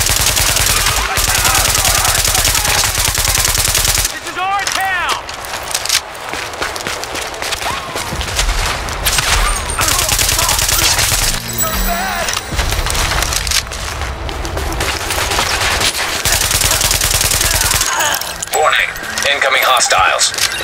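Sustained automatic gunfire from Tom Clancy's The Division, with rapid bursts, splintering impacts and clattering debris almost throughout. Voices speak intermittently over the shooting.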